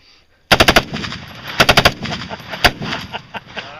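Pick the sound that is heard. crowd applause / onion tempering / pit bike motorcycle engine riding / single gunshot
single gunshot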